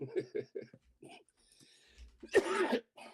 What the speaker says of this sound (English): It doesn't sound like I'm coughing up a lung anymore